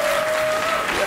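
A short burst of dense studio audience applause, loud and even throughout.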